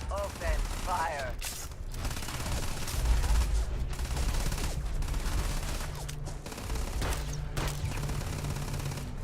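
Gunfire in the video game Starfield, repeated loud bursts of automatic shots over a low rumbling background, close, with a few brief voice sounds mixed in.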